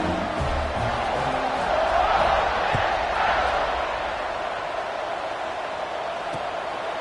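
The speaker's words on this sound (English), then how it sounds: "This crowd is buzzing after that last score." Stadium crowd at a football game keeps up a steady, dense roar that swells slightly in the middle, broad and continuous without letting up.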